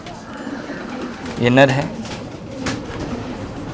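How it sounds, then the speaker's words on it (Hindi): A male Belgian racing pigeon gives a brief, close coo, one rolling throaty burst in the middle, while someone talks nearby. "देखिए ये बेल्जियम का कबूतर है"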